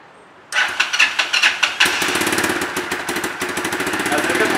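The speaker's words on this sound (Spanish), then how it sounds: "Vamos a encender la moto para que escuchen y vean qué tal quedó." A Loncin JL250GY Rover motorcycle engine cranks after a short quiet moment, fires with a series of sputtering bursts, then settles into a steady, close, rapidly pulsing idle.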